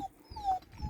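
A small dog whimpers in short, thin, high whines, close by and fairly faint, with a low rumble of background noise underneath.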